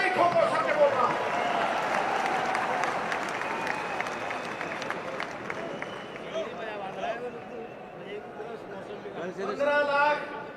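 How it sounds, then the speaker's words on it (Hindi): A crowd claps and cheers steadily at a political rally while someone speaks loudly over the noise. The applause swells again near the end. "ठोको ठोको ताली ठोको"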